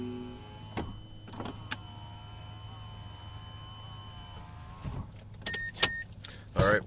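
The driver's power window on a 2010–2013 Mazda3 runs after a window switch repair, giving a quiet, steady motor whine through the middle, with switch clicks and a few louder clunks near the end.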